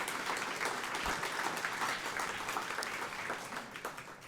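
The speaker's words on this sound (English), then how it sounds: "Can we give them a big round of applause?" Audience applause at a Legacy Society event honoring catering staff, steady dense clapping from a sizable crowd lasting throughout and tapering slightly at the end.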